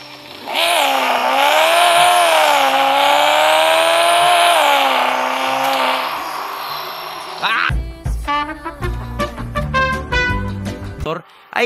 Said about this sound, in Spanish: que tengas que revolucionar el motor así